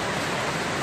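A waterfall fed by melted snow in Fletcher Canyon, Mt. Charleston, gives a steady, dense rush of falling water, close and even throughout a short moment.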